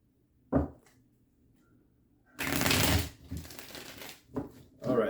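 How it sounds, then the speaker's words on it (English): Tarot cards are shuffled by hand in close, crisp bursts: a quick riffle, then a longer rustling shuffle followed by several shorter flicks and snaps, with quiet pauses between. "that's enough shuffles"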